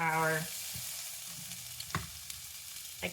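Sauce hits a hot pan of Kung Pao chicken, a brief voiced tone up front giving way to a soft steady sizzle with occasional sharp clicks and scrapes of stirring, close and fairly quiet.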